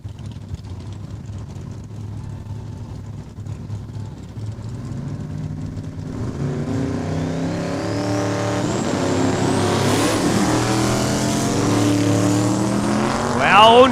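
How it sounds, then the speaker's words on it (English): A 1982 Mustang and a 1976 Vega make a drag racing run at Saskatchewan International Raceway, engines building from a distant drone into a loud rising roar and whine as they accelerate down the strip. "we've got that Southeast Saskatchewan 82 Mustang, Scott McKinnon."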